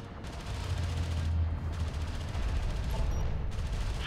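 Battle gunfire from the real-time strategy game Homeworld: Deserts of Kharak, with armored assault vehicles under effective fire: a dense, continuous rattle of shots over a low rumbling bed, loud and sustained throughout with no speech.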